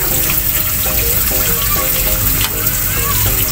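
Water pours steadily into a cooking pot of coconut-milk bamboo-shoot stew with shrimp, a continuous splashing wash that fills the scene from start to finish.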